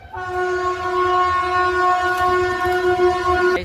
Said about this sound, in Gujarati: જો રેલગાડી આવી.